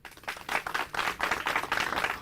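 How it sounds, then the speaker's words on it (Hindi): An audience at a farmers' forum on crop residue management gives a round of applause for the agricultural scientists present, hearty clapping that swells and holds steady for a couple of seconds. "सबसे पहले उनके लिए हो जाए जोरदार तालियां"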